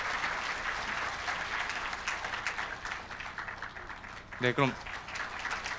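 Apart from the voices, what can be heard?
audience applause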